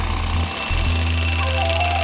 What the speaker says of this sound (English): the compressor is driving these drills which are drilling into the solid pink granite rock.